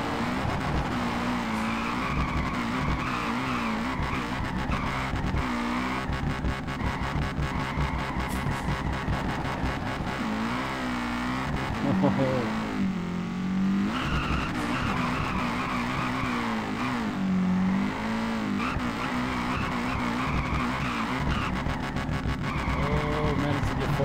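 A drift car in the racing game Peak Angle sliding on heavy handbrake, with a sustained engine roar and long tire squeals rising and falling, while someone talks over it.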